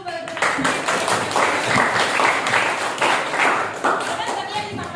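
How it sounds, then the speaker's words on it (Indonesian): Students clap in a history class, a loud, close burst of uneven hand claps with voices mixed in beneath. "Tepuk tangan dulu bagi"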